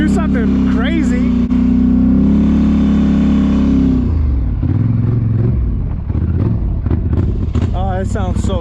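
A Polaris Sportsman ATV engine revs loudly and close through its exhaust, a sustained high roar that drops back to a lumpy idle. Voices talk and shout over it.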